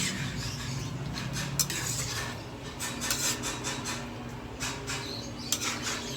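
Squash and tilapia in coconut milk are stirred in a cooking pot, close scraping and clinking of a utensil against the pot coming in rapid uneven strokes over a low background hum.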